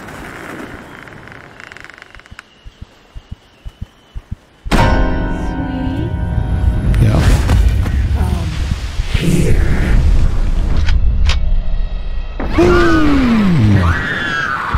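A loud video-game blast as a firework is shot and explodes in a horror game: a sudden heavy boom after quiet clicks, followed by ringing, crackling debris and noisy rumble with a rising whine at the end.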